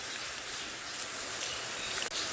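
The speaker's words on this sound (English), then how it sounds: "you get these downpours and then a little lull and then you think you're safe and then downpour again" Steady, dense hiss of a rain downpour in high wind on a sunrise safari at Tswalu, a continuous wash of sound without breaks and with no talking.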